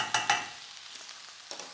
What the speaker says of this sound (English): I love it when things are just gently sizzling for me